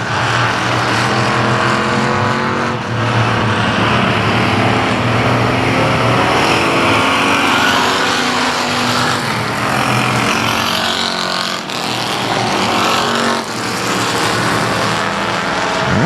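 Race cars running side by side at South Texas Speedway, loud continuous engine roar with shifting pitch as the cars power out of the turn and pass close by, steady and dense with no talk.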